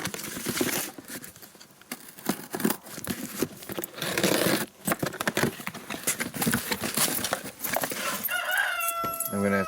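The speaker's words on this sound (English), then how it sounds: "I have a rooster wanting to compete with me." A rooster crows nearby amid rustling and tapping handling noises, with a clearer burst of crowing near the end.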